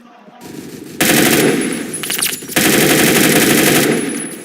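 Automatic gunfire in the video game Phantom Forces, two long, loud bursts of rapid shots separated by a brief gap, dense and continuous with no speech over them.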